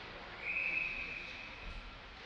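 A referee's whistle at a Barons versus Bombers hockey game sounds as one steady, shrill blast of about a second over a dull arena crowd murmur.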